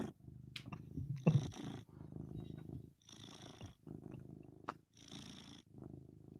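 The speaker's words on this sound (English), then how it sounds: "Listen to that purr." A cat purring close up, with rhythmic rumbling purr cycles repeating about once per second, broken by brief higher sounds in between.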